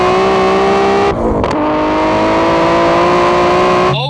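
A 1000-horsepower Dodge Demon accelerating hard: a loud, close engine roar climbing in pitch, cut by a brief dip at a gear change, then pulling upward again before a second shift.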